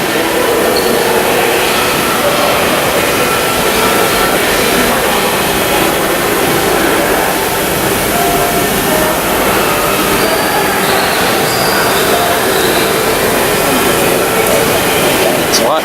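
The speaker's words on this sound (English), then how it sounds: "This is the General Electric GE90 engine." A loud, steady roar of a General Electric GE90 jet engine with a continuous high whine over it, unbroken and close throughout.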